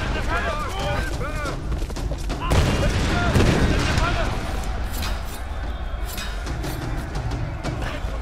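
Booming explosions erupt in a burst amid constant Tomb Raider game noise and music, with crackling debris rumbling afterward; a voice talks throughout.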